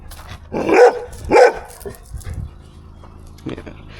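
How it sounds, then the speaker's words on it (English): A dog barks at a delivery driver on a rural doorstep round near Newry, County Down: two loud close barks followed by softer yips and whimpers, with faint background noise. "A dog, again dog."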